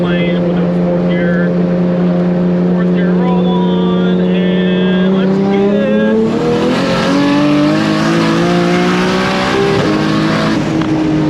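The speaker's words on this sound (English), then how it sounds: "we should probably just do a 4th gear roll on from now on" Inside a BMW E30 swapped to a 2JZ engine with an 8HP70 transmission, the engine drones loudly in fourth gear and then climbs steadily in pitch as it accelerates, filling the cabin throughout.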